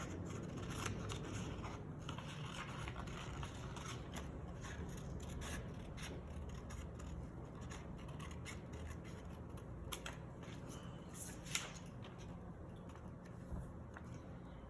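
Scissors snip steadily through paper while a flower card is cut out, making a continuous run of close, crisp cuts and rustles with no talking.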